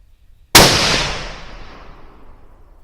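A single loud .308 rifle shot firing a 178 grain ELD-X round on a 100 yard range, a sharp close crack followed by a long decaying rumble, with no talk.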